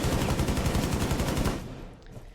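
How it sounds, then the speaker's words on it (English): A sustained burst of rapid LMG fire in Rainbow Six Siege, loud and rhythmic for about a second and a half before cutting off into quiet background noise. "that LMG of Softly is just putting in the work here"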